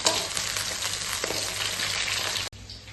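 Cauliflower florets fry in hot oil with a loud, dense, continuous sizzle. The sizzle drops off abruptly near the end and a quieter hiss follows.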